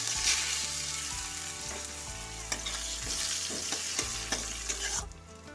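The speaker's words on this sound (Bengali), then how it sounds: "পেঁয়াজটাকে ভালো করে ভেজে নিচ্ছি" Chopped onion fries in oil with panch phoron and fish head, a steady close sizzle broken by scraping stirs and clanks of a utensil, with no voices.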